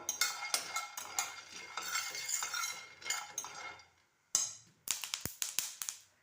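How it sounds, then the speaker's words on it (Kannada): Peanuts being dry-fried and stirred in a pan with a metal utensil, giving rapid scraping and clinking strokes, close and fairly loud, with a short pause before a few sharp taps resume. "ಇದು ಕಡಲೆ ಬೀಜ ಫ್ರೈ ಮಾಡ್ಕೋತಾ ಇದ್ದೀನಿ ನೋಡಿ ಚೆನ್ನಾಗಿ ಫ್ರೈ ಮಾಡಿ ಇಟ್ಕೋಬೇಕು"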